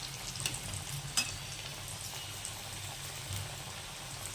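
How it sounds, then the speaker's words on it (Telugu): Ragi and bottle gourd vadas (garelu) deep frying in oil, giving a faint, steady bubbling crackle with occasional small pops and a light clink. "ఇలా డీప్ ఫ్రై చేసేసుకోవడమేనండి"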